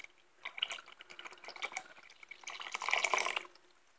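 About half a liter of milk is poured into a bowl, giving a close, splashing and gurgling pour with small dripping bursts that build toward the end.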